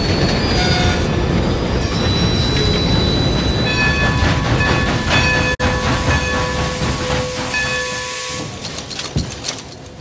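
A train in the game Red Dead Redemption rolls along the rails with a loud, continuous rumble and hiss, while high wheel squeals and metallic tones ring steadily over it.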